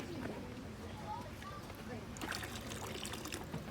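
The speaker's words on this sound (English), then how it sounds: "even just the trickling of the water" Water trickles from a bamboo dipper in a Japanese garden, a soft, steady dribble that brightens partway through, with people talking quietly over it.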